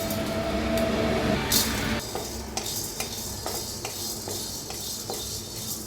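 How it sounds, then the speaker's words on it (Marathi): Cinnamon and cloves dry-roast in a kadhai while a utensil stirs them, giving a steady series of sharp scraping clicks and metallic taps over a low hiss, close and fairly loud, with no talk. "आता दालचिनी लवंग ही भाजून घेऊया."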